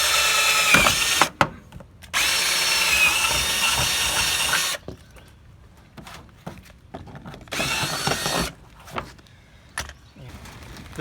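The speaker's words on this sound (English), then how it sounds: "we'll just drill right up through it." A 5/16 drill bit bores up through the front fender of a Jeep JK in bursts: two long loud whining runs and one shorter one, broken by quiet gaps and brief clicks of the drill being handled, with no voices.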